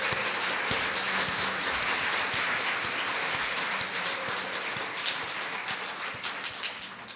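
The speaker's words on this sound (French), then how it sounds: "on vous applaudit" Applause from a congregation at a family Sunday mass, a dense steady wash of many hands clapping that holds for the whole stretch and only thins slightly toward the end, with no voices over it.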